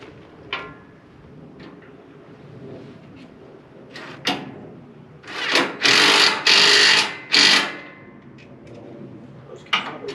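A Saya-507 no-till drill with a chain drive runs, giving scattered clanks and rattles, then a middle stretch of several loud, harsh rattling bursts before it settles back to sparse knocks.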